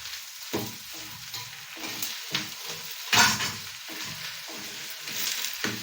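Drumstick leaves being stirred and fried with onions in a pan, a steady close sizzle broken by repeated scraping stirs, one louder scrape near the middle, with no voices.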